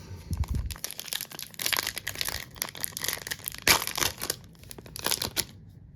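Foil packs of Upper Deck MVP hockey cards are torn and crinkled open, a close, continuous run of ripping and crumpling with sharp crackles, no talking.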